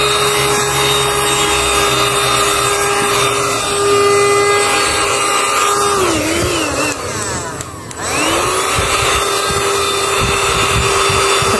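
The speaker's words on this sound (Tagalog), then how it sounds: "I-vacuum ko muna itong mga ni Aya." A household vacuum cleaner runs continuously, giving a loud, steady motor whine whose pitch drops briefly twice, as if the nozzle is momentarily blocked, before recovering.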